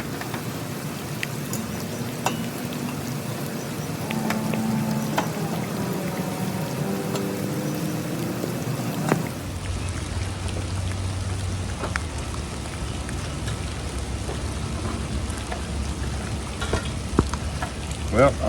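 Light rain falls steadily on leaves outdoors, a constant close patter that shifts in tone partway through and carries on throughout.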